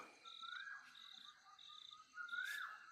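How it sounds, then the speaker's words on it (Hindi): A nightjar calls a repeated chak chak chak in jungle at night. Faint, distant chirps repeat steadily over a quiet background of insect trills. "नाइट जार भी बोल रहा है चक चक चक"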